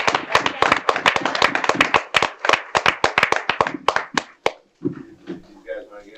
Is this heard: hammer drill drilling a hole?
no